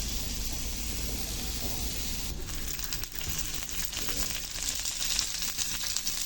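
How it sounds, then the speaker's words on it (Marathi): Oil poured into chopped onions in a pan sets off a steady, soft hissing sizzle with faint crackles, close by and fairly quiet, running unbroken with no one speaking. "कांदा आपला चांगला कोंबलेला आहे, त्याच्यात आता टाकू तेल"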